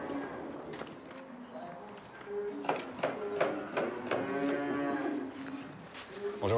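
Cows on an Austrian mountain farm moo several times in sequence, close and moderately loud, with shuffling hooves and movement in between.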